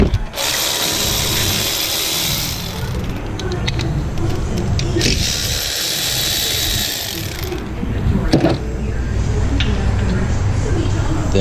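A power tool, likely an impact wrench or ratchet, spins off the 14mm front brake caliper bolts on a 2014 Hyundai Elantra, two long whirring bursts close by with mechanical clatter in between.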